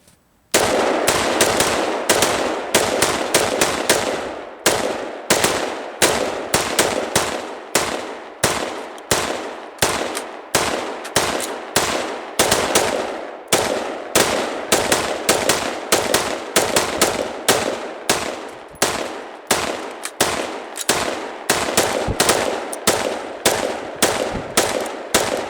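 Rapid strings of loud gunshots from shooters firing in a civilian versus state police magazine capacity demonstration, sharp reports in quick bursts with brief pauses for about twenty-five seconds, close and dominant with no talk.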